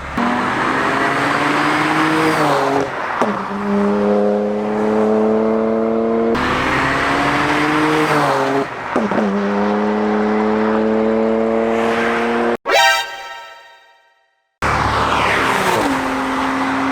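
Another friend's modified car roars past repeatedly, revving hard through gear changes, with a brief cut and a fading whine before the engine noise returns; loud, close, and free of speech.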